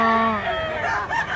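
A rooster, one of the birds offered at a cold-weather chicken market in Mantalungon, Cebu, crows once near the microphone in a harmonic, wavering call that fades after about a second.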